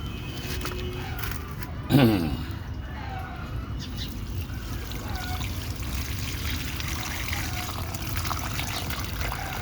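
Water is poured and trickles steadily in a poultry-keeping setting, with a brief louder splash or clatter early on and a continuous dribbling sound underneath.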